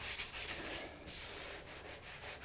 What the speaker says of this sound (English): follow the 80 grit up with some 180 grit and bring this down a little bit closer